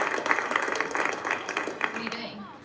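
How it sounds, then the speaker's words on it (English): Applause for Abby, the roommate, a small group clapping in a quick, steady patter that tapers off near the end, with faint talk underneath. "Give her another round of applause over here with this thing here."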